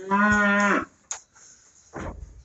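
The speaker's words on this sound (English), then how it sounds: "You can't see the cows because they're in front of me." A farm cow gives one loud, close, drawn-out moo, then a quiet stretch with small knocks and a brief rough scrape, with no voices.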